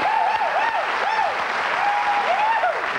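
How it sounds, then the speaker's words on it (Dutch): Loud, sustained studio audience applause for a guest on a 1993 Belgian television show, dense and close, with a gliding tonal whistle or music line riding over the clapping. "Uw stormachtig applaus voor Xavier de Baere."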